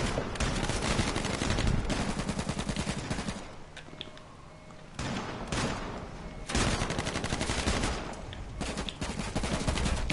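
Sustained rapid gunfire in the survival shooter H1Z1, dense automatic bursts filling the scene almost without pause, briefly easing before resuming loud and close.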